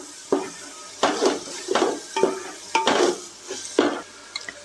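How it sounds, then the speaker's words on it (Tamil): Tomatoes for Dindigul-style mutton biryani sautéed in a pan, with repeated stirring scrapes and clinks of a spoon against the vessel over a light sizzle, close and fairly loud. "இப்போ தக்காளியை வந்து நல்லா வதக்கிக்கலாம்"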